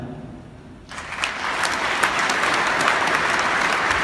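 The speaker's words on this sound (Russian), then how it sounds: "аплодисменты продолжателям семейного бизнеса" After a brief quiet moment, applause breaks out at an Oriflame business gathering for the successors of a family business, a full, sustained round of clapping from a large room that swells quickly and stays strong.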